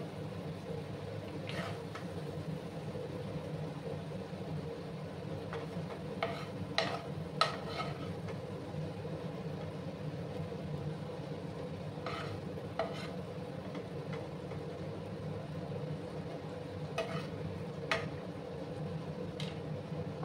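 Prawns sizzle steadily in a hot pan while a utensil scrapes and clinks against the metal now and then, turning them at an irregular pace.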